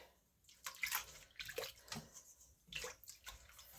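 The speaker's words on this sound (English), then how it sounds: "Give that a stir." Warm water is stirred for bread dough, two cups in a bowl, making faint splashing, swishing sloshes in a quiet indoor room.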